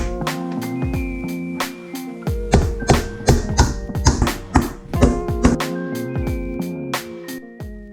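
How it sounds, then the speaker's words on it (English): Brass inserts are hammered into a box, giving a run of sharp taps and thunks that cluster loudly in the middle over a steady tonal background. "hammer in the brass inserts"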